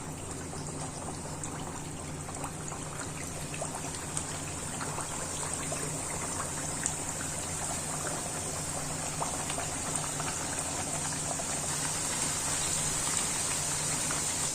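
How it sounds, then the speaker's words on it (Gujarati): Wheat flour farsi puri deep frying in hot oil, a steady dense sizzle and bubbling that holds evenly throughout with no talk. "હવે આપણે બધી જ ફરસી પૂરી વારાફરતી તેમાં તળી લેશું"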